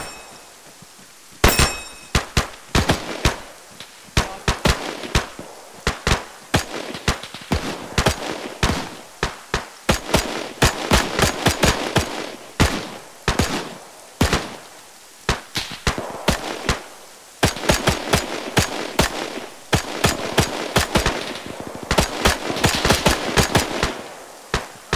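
Machine gun fire with tracers in a World War II video game, set in the 101st Airborne's Battle of Bloody Gulch, cracks in rapid bursts and scattered single shots, loud and near, repeating steadily throughout.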